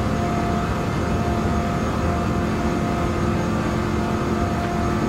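Loud, steady engine drone heard from the cockpit of a 1970 Plymouth Superbird tuned to 848 horsepower in Gran Turismo 7, holding a constant high-speed roar with no talk.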